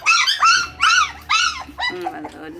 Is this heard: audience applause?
no